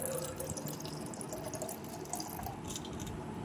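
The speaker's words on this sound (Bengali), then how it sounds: "দেখতে পাচ্ছ ঘর ভর্তি করে জল দিয়ে দিচ্ছি" Water poured into a pot that drips steadily onto a Shiva idol, a faint, continuous trickle with small splashy drops, close by and quiet throughout.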